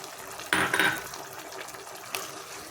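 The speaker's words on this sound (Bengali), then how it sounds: "এই যে একটু জলটা দিয়ে দিলাম।" Water is poured into a cooking pan of soya chili, a short close splashing gush at the start followed by a quieter trickle and one more brief splash.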